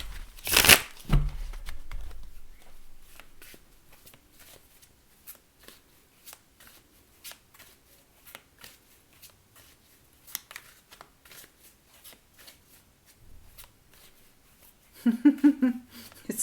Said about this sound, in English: Spirit wants me to give them another shuffle.